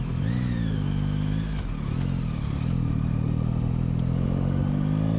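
A Yamaha Tracer 9 GT motorcycle engine drones steadily while riding, a loud, close, continuous rumble with slight pitch shifts as the revs change and no speech.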